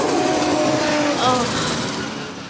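Pro 2 drift cars battle, a Subaru among them, their engines holding a loud revving roar at high revs that slowly fades as they pull away, under excited commentary.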